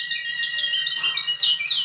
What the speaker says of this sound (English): Birdsong for a Murder.